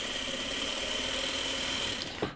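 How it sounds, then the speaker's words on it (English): A sewing machine runs steadily, stitching 2.5-inch quilt squares into four-patch blocks, a close, even motor whir and needle drone that holds level throughout, then stops abruptly at the end with a small clack. "So I'm just gonna sew that together"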